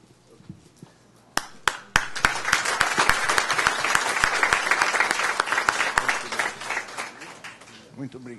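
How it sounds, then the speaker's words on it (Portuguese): Applause from an audience at a solemn municipal anniversary session starts with a few isolated claps, swells into sustained dense clapping for several seconds, then fades as a voice begins. "Muito obrigado pelas palmas."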